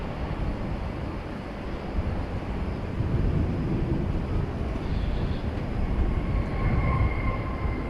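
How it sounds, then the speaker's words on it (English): A United Boeing 737-800 landing at DFW airport at night, a broad, steady rumble of jet noise that grows slightly louder and roars on at a moderate distance without any voices. "Got a United coming in."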